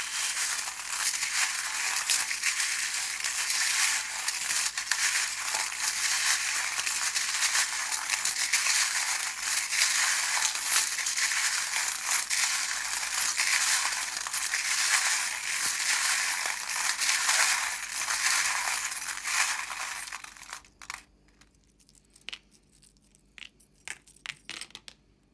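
Small metal tarot charms and dice shuffled together by hand, a long dense rattle and clink of tumbling pieces that stops abruptly, leaving a few scattered clicks and taps.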